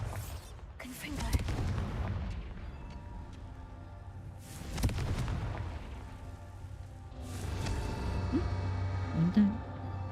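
Confringo blasting spells fired in the Hogwarts Legacy video game burst as several loud booming explosions at intervals, with a spoken voice and other game sounds heard around them.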